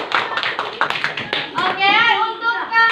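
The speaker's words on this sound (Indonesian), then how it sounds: "tepuk tangan dulu untuk kita semua" A group of students claps together in a classroom, first in quick rhythmic bursts of sharp claps, then giving way to children's voices chattering up close.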